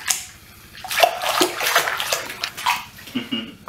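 Water sloshes and splashes in a bathtub during a child's bath time, with irregular close bursts of movement and quieter gaps between them.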